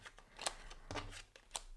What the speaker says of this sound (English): The dealer will need to shuffle and distribute the whole deck of cards